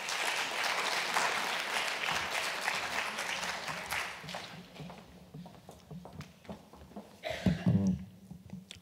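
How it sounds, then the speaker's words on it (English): An audience claps loudly and steadily at an education department reading strategy launch event, a sustained round of applause that thins out and tapers off toward the end. "A big round of applause for the MEC."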